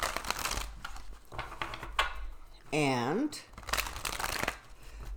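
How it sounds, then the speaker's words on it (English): Playing cards being shuffled a couple of quick times at a political rally stream, a brisk riffle and bridge burst near the mic, with someone talking before and after. "So we'll give it a couple more quick little shuffles."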